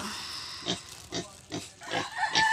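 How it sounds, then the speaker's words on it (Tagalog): A pet pig grunts close to the microphone, giving a series of about six short, snuffling oinks in an irregular rhythm, with a faint high tone near the end. "So guys, ano yung baboy ko guys."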